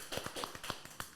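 A handful of sharp hand claps, close and fairly quiet, spaced irregularly over about a second, with no talk.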